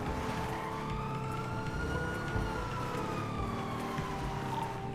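A police car siren wails with slow rising and falling tones, loud and steady alongside road vehicle noise, with no talk over it.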